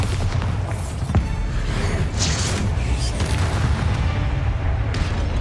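Bombarda spell blast in Hogwarts Legacy, a dense, continuous rumbling boom with crackling debris and a sharp crack near the one-second mark, loud and sustained throughout.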